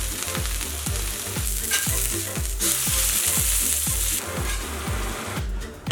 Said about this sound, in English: Get a nice heavy pan and get it ripping hot, really hot. Hit it with a little olive oil.